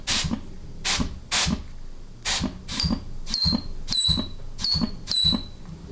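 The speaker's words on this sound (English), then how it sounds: "the noise you're hearing is just air escaping the nozzle" Compressed air escaping a damaged nozzle while a 4L80E transmission's forward clutch is air-tested during rebuild: repeated short bursts of hissing, some with a sharp whistling tone, near and alone in an irregular rhythm.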